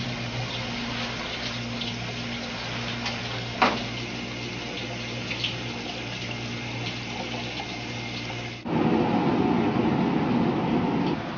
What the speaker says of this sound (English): Soy milk coming out of the bottom here.